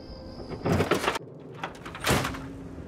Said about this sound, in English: Come on in, I'll unlock the door.